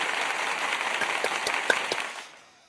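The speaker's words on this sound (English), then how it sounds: "We got applause right here." A canned applause effect plays at a bingo launch party livestream, a steady wash of clapping that rises briefly then fades out over the last half second.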